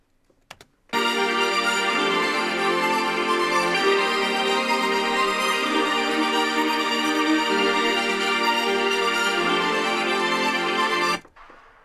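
Sustained synth string chords from the break of a dance track, a smooth, steady pad that swells in after a brief click and holds evenly for about ten seconds before cutting off.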